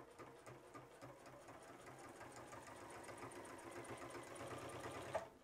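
A Juki HZL-F600 sewing machine stitches through eight layers of denim, a steady close motor hum with rapid, even needle thumps throughout, ending in a small clunk as it stops.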